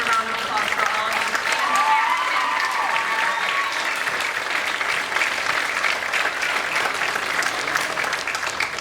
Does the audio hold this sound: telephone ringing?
no